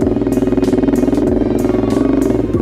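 A Honda CBR150r fitted with a full straight-pipe SC Project muffler revs loudly up close, its rapid rough exhaust pulses blipping in repeated surges with no talk.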